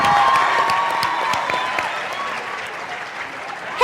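Crowd applause for a high school jazz band at a coronation ceremony, a loud dense burst of clapping with some cheering, gradually thinning and fading toward the end.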